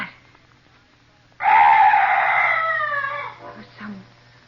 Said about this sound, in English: Oh, some night birds. Yes, that's all. Such a weird sound.